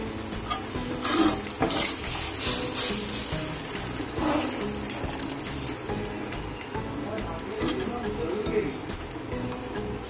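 Hot water hits masala frying in a pan for a Maharashtrian shev bhaji curry, giving a loud hissing sizzle that flares up in the first few seconds, then settles into steady bubbling and stirring scrapes.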